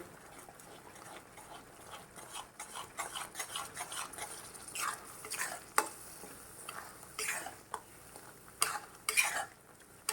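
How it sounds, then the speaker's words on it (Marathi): A spice masala paste for a red restaurant-style gravy is stirred and roasted in a pan over medium heat, giving soft scraping spoon strokes and clinks over a faint low sizzle, fairly quiet and close. "मध्यम गॅसवरती आपण सगळा मसाला असा भाजून घेऊया"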